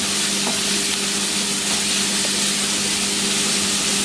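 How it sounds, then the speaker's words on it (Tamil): Onions sautéing in a pan for prawn gravy, a steady, loud frying hiss that runs unbroken from start to finish, close up, with a faint hum beneath it. "வதங்கிடும் இப்போ வெங்காயம் வதக்கியாச்சு"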